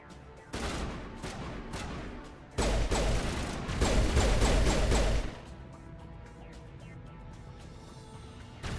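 Gunfire in the Mass Effect 1 video game: dense, rapid volleys of shots rattling close and loud for several seconds, then a quieter stretch of lingering battle noise.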